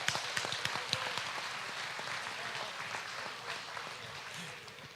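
An audience at a county fair swine show applauds the champion and reserve champion exhibitors, a steady patter of many hands clapping throughout, moderately distant and fairly soft.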